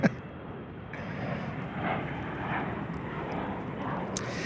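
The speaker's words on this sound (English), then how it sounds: "C-145 taking off for Piedmont Airlines, headed up the East Coast." Piedmont Airlines regional jet taking off from Charlotte Douglas International Airport, a steady distant engine roar that holds evenly throughout with no talking.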